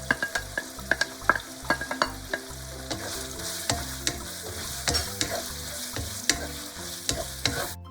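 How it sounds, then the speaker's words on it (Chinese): Diced lean pork and dried tofu stir-fry in a hot wok, with sharp metallic spatula scrapes and clanks striking in quick irregular rhythm over a steady background sizzle, close and fairly loud. "用力炒散瘦肉粒。 半分钟后，加入豆腐干。"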